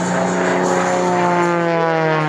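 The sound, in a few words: aerobatic propeller plane performing spins at air show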